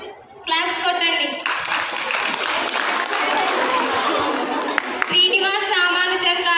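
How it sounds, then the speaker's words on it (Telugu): Schoolchildren in a classroom burst into a few seconds of lively, close applause, framed by someone talking just before and right after the clapping. "క్లాప్స్ కొట్టండి"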